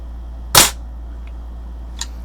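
A single sharp shot from a Daisy 120 spring pellet rifle cracks out close by at a Halloween target, followed about a second and a half later by a faint tick and a small click.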